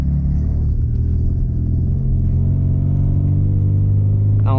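A Porsche 944 engine drones loudly and steadily from inside the car as the rear-wheel-drive coupe struggles on slippery snow and ice, with a rising rev at the very end.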